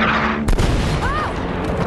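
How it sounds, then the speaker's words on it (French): Anti-aircraft fire in the video game Uncharted, a loud booming blast near the half-second mark amid continuous rumbling noise, with a brief whistling tone after it. "Des tirs anti-aériens!"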